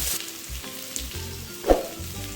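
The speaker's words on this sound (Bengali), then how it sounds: "কুচনো পেঁয়াজ দিয়ে সামান্য নুন দিয়ে হালকা করে পেঁয়াজটাকে ভেজে নেব" Chopped onions frying in oil with cumin seeds and bay leaf for a Bengali mutton curry, giving a steady close sizzle with a brief louder clatter of stirring near the end.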